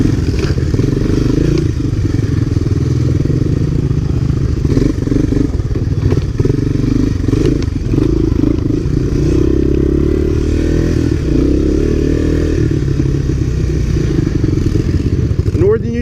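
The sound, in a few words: Honda ATC three-wheeler trikes riding on a trail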